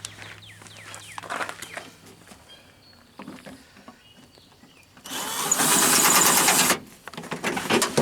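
Scattered handling clicks and knocks, then a loud, continuous power screwdriver motor whirr driving a screw while working on a first-generation Ram, lasting a couple of seconds before stopping abruptly.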